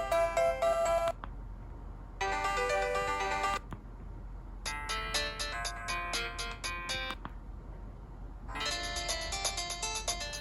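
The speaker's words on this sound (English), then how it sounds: "Okay, so some just generic ringtones." A generic ringtone plays on a Motorola MOTOGO EX431G mobile phone in repeated melodic bursts separated by short silent gaps, clear and close with no talking.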